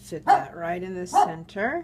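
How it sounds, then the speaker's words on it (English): A dog barks a few times in the background, mixed in with someone talking while she works on a card-in-a-box craft project at a table. "Sorry about my dog barking in the background there."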